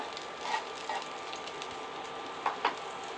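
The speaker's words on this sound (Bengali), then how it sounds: "আর পাঁচ ছ কোয়া রসুন থেতো করে নিয়েছি আর চার পাঁচটা কাঁচা লঙ্কা কুচিয়ে নিয়েছি এগুলো একটু তেলে নেড়ে নেব" Crushed garlic and chopped green chillies frying in oil give off a soft, steady sizzle, with a few faint clicks of stirring, quiet and alone.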